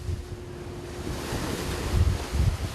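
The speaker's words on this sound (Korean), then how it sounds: "계속해서 집채만한 파도가 원석호를 덮쳐오고 9명의 선원들은 목숨을 담보로 야간 조업에 들어간다" Huge waves pound a flounder fishing boat working at night on rough seas, a steady roar of surf and wind buffeting with heavier surges building toward the end, no voices.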